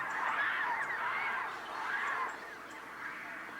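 Waterbirds call at a desert lake filled after rain, where a pelican feeds on fish and shrimp. Honking, goose-like cries rise and fall in two swells over a steady outdoor hiss, moderately loud and without talk.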